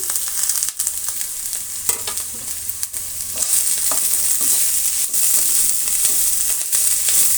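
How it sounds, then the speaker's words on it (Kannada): Finely chopped onion and green chillies fry in a pan with vegetables for rice bath, giving a loud, close, continuous sizzle with bright crackle and occasional stirring scrapes and clinks. "ಈಗ ನಾವು ಈರುಳ್ಳಿ ಮತ್ತು ಹಸಿಮೆಣಸಿನ್ಕಾಯನ್ನು ಸಣ್ಣದಾಗಿ ಕಟ್ ಮಾಡಿರೋದನ್ನು ಹಾಕ್ತಾಯಿದ್ದೀನಿ"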